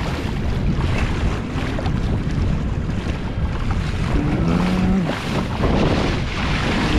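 Electric motor of an Old Town Sportsman 120 Autopilot fishing kayak run at full throttle on open water, a loud continuous rush of wind and water with a faint motor whine partly buried beneath it.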